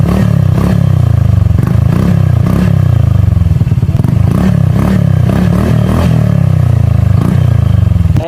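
A Honda ADV 160 scooter with a full-system aftermarket muffler revs repeatedly up close, loud throaty bursts rising and falling in a steady rhythm with some rattling clatter, no talking.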